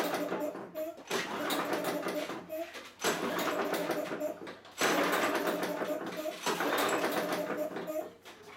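A Craftsman lawn mower engine with its motor blown after running out of oil, cranked by hand with the starter cord in several long pulls, each a loud whirring burst separated by short pauses.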